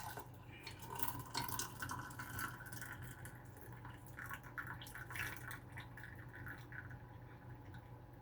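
Homemade tea poured through a strainer: a faint, close trickle and patter of liquid running into a container, steady with small splashy bursts.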